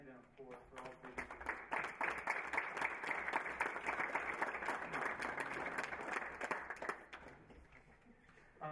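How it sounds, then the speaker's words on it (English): Sustained audience applause at a Kiwanis Hope of America awards ceremony, dense steady clapping from a room of people lasting several seconds before tapering off, with no talking over it. "give a round of applause for your parents and thank them for all they do"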